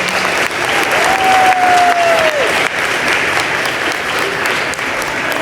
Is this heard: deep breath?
no